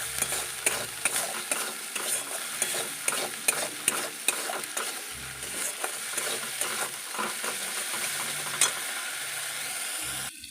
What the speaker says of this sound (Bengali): এগুলো নেড়ে নিচ্ছি।